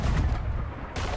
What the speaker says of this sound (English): Snakes can apparently absorb cannon fire.